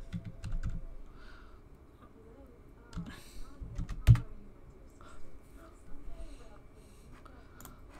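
Keys clatter on a computer keyboard as a password is entered, a few quiet scattered taps and clicks heard close by amid faint background noise and some speech.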